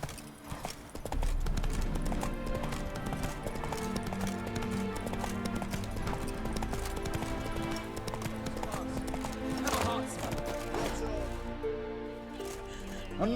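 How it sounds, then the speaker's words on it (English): Horse hooves clopping at a gallop in The Witcher 3, a steady rhythmic beat under continuous game music and ambience, with a brief voice partway through. "Run, Roach."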